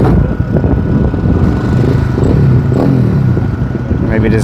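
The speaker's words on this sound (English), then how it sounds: "it looks like maybe they run little motorbikes on here as well" Small motorbikes and go-karts running on a karting track in Japan, their engines buzzing and revving continuously at moderate distance, with voices talking faintly over the mix.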